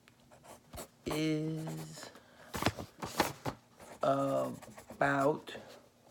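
A pencil or pen scratches across paper in short, close strokes during a children's story-writing lesson, interleaved with clear talking between an adult and a child.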